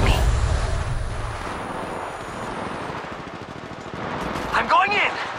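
Apex Legends Mobile battle gunfire, rapid bursts and crackling shots under continuous noise, loud and close, with a voice shouting near the end.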